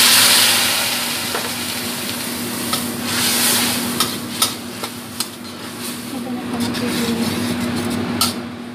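Blended chili sizzles steadily in a frying pan over lowered heat while salted squid balado with green chili is cooked, with occasional light clinks of a stirring utensil and no talking.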